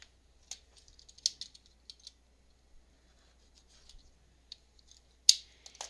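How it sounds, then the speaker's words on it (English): Scissors trim the edge of paper for a handmade postcard box, making a series of crisp close snips with short pauses, ending in one sharp louder cut, in a quiet room without talk. "I'll just trim that off."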